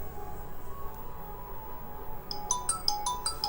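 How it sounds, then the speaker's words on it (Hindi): A mobile phone rings with a ringtone during a live Bank Nifty options trading session: a bright repeating electronic melody of short beeps starts partway through and continues over a steady low room hum. "किसका फ़ोन आ रहा है?"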